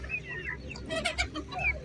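Chickens clucking close by at a pigeon and poultry fair in Mykolaiv, Ukraine, a series of short bursty clucks with a rooster's call mixed in.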